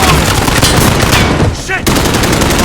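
Loud, dense automatic gunfire in the shooter Call of Duty Modern Warfare, with rapid bursts and echoing shots that briefly dip into a muffled lull before resuming at full intensity.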